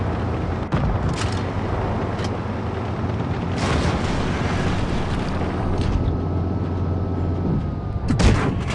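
Tank cannon fire in World of Tanks Blitz, from a TOG tank. Several sharp booming blasts ring out over a steady engine rumble and wind-like noise, the last one near the end the loudest.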